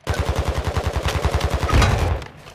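Rapid automatic gunfire in a Warzone 2 firefight, a loud, close, steady stream of shots that ends in a heavier blast, with no talk over it.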